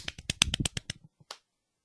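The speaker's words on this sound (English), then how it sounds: "I don't do snaps, I just do fast claps." Quick bare-hand claps ring out close and crisp: a rapid run of about nine sharp slaps, then a few sparser, fainter ones before silence.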